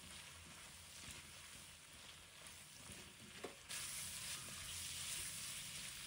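Sausage and potato slices sizzle steadily in a hot wok while being stir-fried. A soft scrape of stirring comes partway through, and then the frying grows a little louder and fuller.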